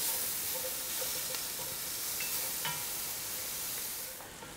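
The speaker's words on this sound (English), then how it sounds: "We're adding 1 onion that we've chopped. And we're going to just cook it until it's brown" One chopped onion fries in a pan with a steady, close sizzle and hiss that holds evenly throughout, then eases slightly at the end.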